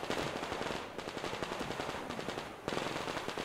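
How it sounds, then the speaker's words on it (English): Continuous automatic gunfire from allied soldiers in Metro Exodus, a rapid, loud, dense rattle that briefly thins twice before resuming at full intensity. "that's our guys shooting at that thing"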